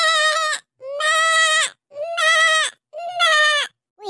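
A goat bleats four times in a row, loud and close, each call a long wavering cry separated by short pauses, with nothing else audible.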